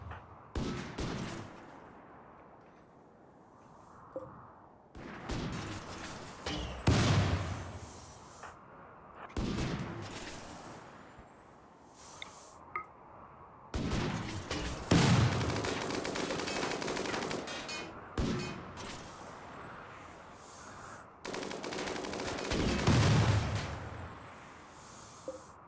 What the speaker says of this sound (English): so I'm just gonna start shooting this